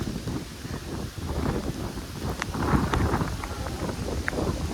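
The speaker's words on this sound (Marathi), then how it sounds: "खूप म्हणजे खूप जोरात पाऊस पडतोय." Heavy rain lashes down with strong gusting wind during the first storm of the season in the Konkan countryside, a dense, steady roar filling the foreground with no voices.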